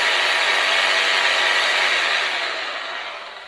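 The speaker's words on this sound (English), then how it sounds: "Will she run the Bosch jigsaw?" A Bosch jigsaw runs powered by a Bluetti EB3A portable power station, a loud steady whining motor close by that holds evenly then tapers off toward the end, with no speech.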